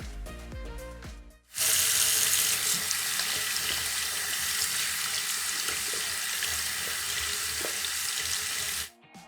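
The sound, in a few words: water tap running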